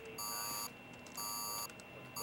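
Electronic alarm in a sci-fi control room beeping in three bursts, each a steady high-pitched multi-tone pulse separated by short gaps, loud and clear over a low background hum.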